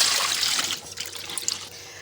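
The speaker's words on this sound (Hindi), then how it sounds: "अब ये मैंने एक छन्ना लिया है और इसके अंदर हम इसके पानी को सारे को स्ट्रेन कर देंगे" Whey pours through a kitchen strainer as homemade mozzarella is separated from its liquid: a bright, steady trickle of liquid splashing close by, thinning to a lighter dribble toward the end, with no voices.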